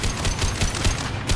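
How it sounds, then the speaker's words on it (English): Heavy gunfire in Mass Effect 2, a quick string of loud, punchy shots close up, with no speech. "Firing a high-impact shot!"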